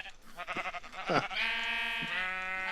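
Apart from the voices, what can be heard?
sheep bleating in the video game Minecraft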